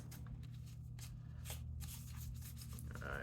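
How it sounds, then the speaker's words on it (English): Tarot oracle cards that tend to stick together are shuffled by hand, giving soft, faint, irregular riffling and sliding rustles close to the mic against a low steady background hum. "I don't know how to shuffle these cards because they stick"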